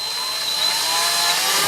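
A power drill whines steadily at high speed, boring through IKEA furniture wood at close range, with a brief shift in tone as it pushes through and no talking.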